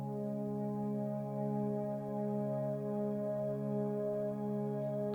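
Two sustained notes from an Aeroband digital guitar, held together as a steady, even drone with rich harmonics, moderately loud and alone for about five seconds.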